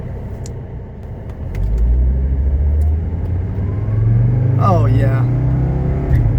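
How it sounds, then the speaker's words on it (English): A 1979 Mercedes 300SD diesel engine rumbles and accelerates up a hill, the drone rising in pitch as it pulls, heard from inside the car with a brief spoken exclamation over it. "We're hot enough to do a little acceleration test up this hill."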